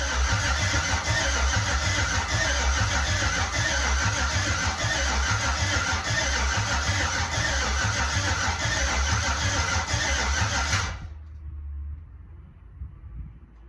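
A Jeep with an LS engine swap and newly replaced cylinder heads runs loudly close by with a rough, pulsing idle for about eleven seconds before shutting off abruptly, leaving a quiet tail.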